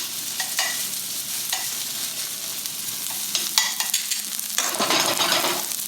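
Shallots sauté in a pan with a continuous close sizzle, broken by several scraping stir strokes that grow busier toward the end.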